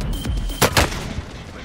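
Gunfire in a battle royale video game, with a couple of loud, close shots in quick succession over steady background game noise and no talk.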